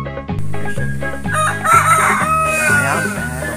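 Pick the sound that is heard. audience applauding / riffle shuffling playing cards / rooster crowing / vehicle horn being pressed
rooster crowing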